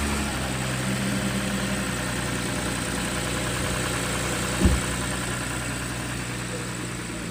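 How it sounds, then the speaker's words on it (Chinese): An Audi A6 V6 engine idles steadily and close, a constant low drone with a faint ticking fault running underneath and one brief thump partway through. "低速怠速行驶的时候有一点哒哒哒的声音啊"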